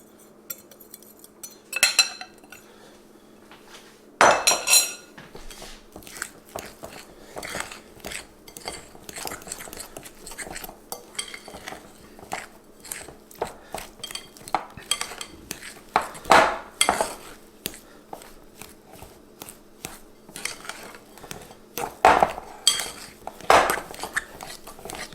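Keto chocolate chip cookie dough is mixed in a bowl with a utensil, giving repeated close scraping and clinking of metal against the dish in an irregular rhythm, with a few louder knocks and a steady low hum underneath.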